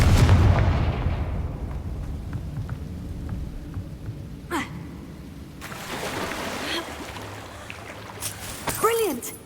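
A Confringo blasting spell cast in the Hogwarts Legacy video game, heard as a booming rumble at the start followed by sharp bursts and crackling explosive hits, with a rushing, rain-like wash of game effects behind them.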